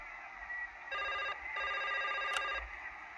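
An old-style telephone bell rings in the Broken Sword 2 adventure game, two bursts of trilling rings with a short gap between, moderately loud and heard alone.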